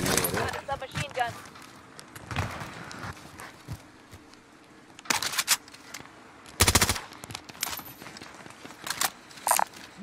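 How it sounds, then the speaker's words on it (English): A submachine gun in a shooter video game fires in a few short, sharp bursts of rapid shots, loud and close, separated by quieter gaps with game noise, while players talk over the action. "Got a submachine gun."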